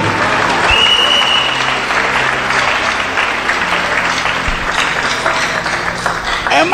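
A church congregation claps loudly and continuously as a dense, steady wash of applause that fills the hall, with a few voices rising faintly in the mix.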